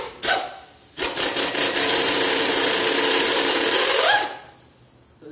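An impact wrench rattles on 14 mm bolts of the center muffler on a 2009 Toyota Highlander. There is a quick short burst first, then a loud, close, sustained run of about three seconds that stops abruptly.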